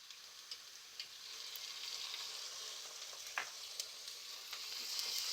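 Ginger garlic paste frying with softened onions in a pan, a continuous bright crackling sizzle that swells slightly, with a few sharp pops and a brief stirring scrape, no talking.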